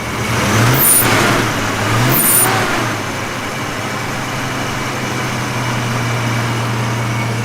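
A 1965 Ford Mustang engine idles with a steady low rumble, interrupted near the start by two sharp hissing bursts, then settles into an even drone.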